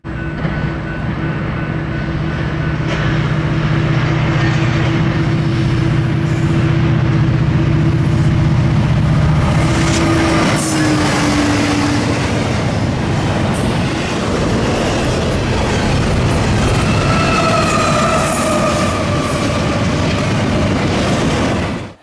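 A Norfolk Southern eastbound freight train rolls past steadily and loud for the whole stretch, with a sustained horn-like tone early on, rumbling wheels, and faint metallic squeals higher up.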